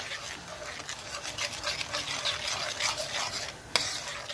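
Honey butter chicken sauce with melting sugar being stirred in a pan, a steady scraping swish with soft sizzle running throughout and one sharp clink near the end.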